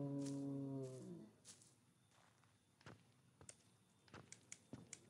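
A cow lows loudly in the horror video game Greyhill Incident, one long moo at the start, followed by quiet scattered footsteps and small taps in a hushed setting.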